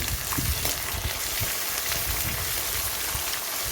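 Ingredients for Karnataka-style tomato rice sauté in a hot pan with steady, dense frying and sizzling crackle, close and even throughout, with no voices.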